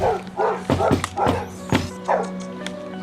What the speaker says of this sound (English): No one appears to be home, except an angry-sounding dog.